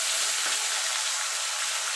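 Prawns being stirred and fried in hot oil in a pan for a pointed gourd (potol) dish: a steady, dense sizzle with no talk, close and even throughout.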